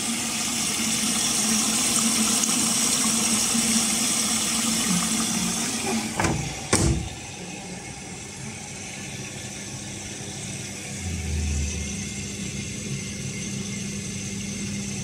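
A 2002 Whirlpool front-loading washing machine running, with a steady hum and water rushing and filling the drum, a couple of brief knocks midway, and no talk.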